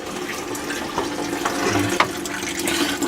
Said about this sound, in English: Now we're draining the coolant.